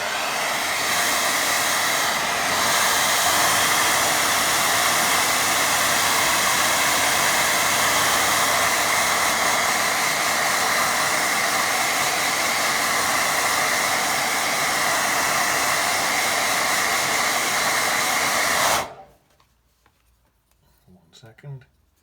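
A hair dryer blows steadily and loudly for about nineteen seconds over a watercolour painting, a broad constant roar, then cuts off abruptly, leaving near silence with faint handling noise.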